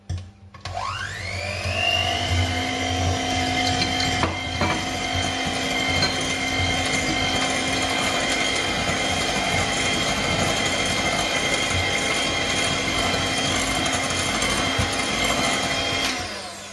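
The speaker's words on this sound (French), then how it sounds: "vous allez baisser la vitesse de votre batteur, vous allez réduire à peu près de moitié le batteur" Electric hand mixer beating egg whites, sugar and egg yolks for a Yule log cake, a steady high whine that spins up at the start and runs continuously at close range.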